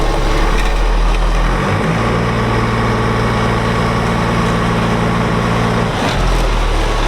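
FV180 Combat Engineering Tractor turning on road steer, its heavy engine droning loud and steady with a deep low rumble that shifts pitch as the machine brakes one track and swings through the corner.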